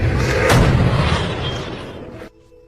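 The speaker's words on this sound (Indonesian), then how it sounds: "Fox pun mengajukan dirinya untuk menjadi sukarelawan supaya Wesley punya alasan kuat untuk bisa membelokkan pelurunya" Film gunshot scene with a bullet being bent, a heavy booming blast with a sharp crack near the start that rolls off into a fading rumble before cutting to quiet.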